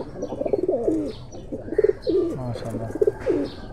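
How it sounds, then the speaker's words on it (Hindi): A Kuwaiti teddy pigeon coos close by in repeated throaty, warbling phrases with short pauses between them. "भाई खूबसूरत कबूतर देखो"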